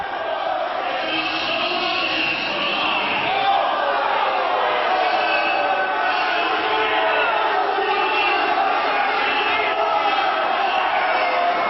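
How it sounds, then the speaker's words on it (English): A large wrestling crowd chants and roars continuously during an NWA World Title match, a dense wall of voices filling the space at steady loudness throughout. "They're chanting."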